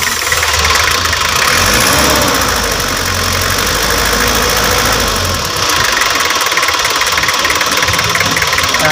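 A 2011 Nissan Urvan van engine running at a steady, loud idle with a knocking, vibrating mechanical rhythm, close up and without voices.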